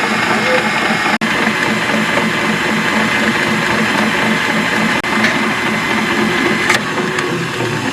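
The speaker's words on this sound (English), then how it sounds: "my egg whites are down in my mixer, and I'm just going to turn this on high until they come to a stiff peak" An electric mixer on high whips two egg whites toward stiff peaks, giving off a loud, steady whirring drone that continues throughout with only small changes in tone.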